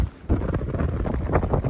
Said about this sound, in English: Even though it is windy